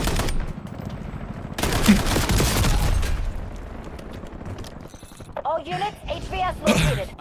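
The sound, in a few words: gunfire in Call of Duty video game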